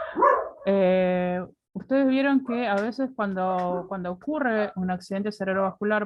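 Dogs barking and yipping at home in short bursts, mixed in with and partly covered by someone speaking Spanish close to the microphone.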